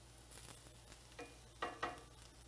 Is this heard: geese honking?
no